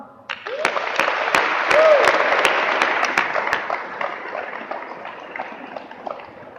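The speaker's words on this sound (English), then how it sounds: "how about a round of applause for that all-maintainer honor guard?" A crowd at a military retirement ceremony applauds an honor guard steadily with scattered loud claps, building quickly then gradually fading out over several seconds.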